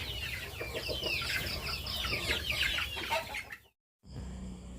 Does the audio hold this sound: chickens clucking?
yes